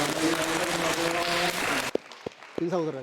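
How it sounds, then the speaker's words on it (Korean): A church congregation applauds in celebration during a Sunday service, clapping loudly for about two seconds before it cuts off, followed by a few isolated claps and a voice speaking. "예, 축하의 박수하겠습니다."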